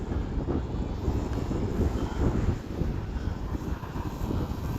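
An H-King Wargo Edge 540T radio-controlled airplane comes in to land, its engine a steady low drone at moderate distance, mixed with wind rumble and no voices.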